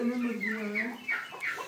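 Chickens on a poultry farm cluck close by in a short burst of rising, squawky calls over quiet background noise.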